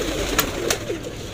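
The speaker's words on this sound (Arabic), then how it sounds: "الحمام طبعا بدا يحبس هناك" Domestic pigeons coo softly at a pigeon loft, with two or three short, close, throaty calls over a low background hum.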